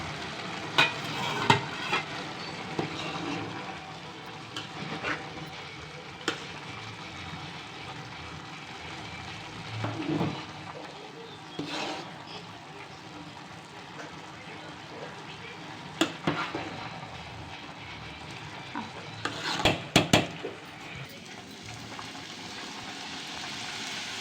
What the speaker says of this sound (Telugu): ఒకసారి బగారా రైస్ కలుపుకుందాము.